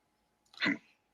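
One short, sharp sneeze, fairly faint and isolated against a quiet background.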